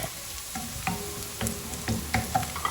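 Pak choy stir-fried in a hot pan while prawns cook alongside: steady frying sizzle broken by repeated clacks and scrapes of a utensil tossing the greens, close and moderately loud, with no talking.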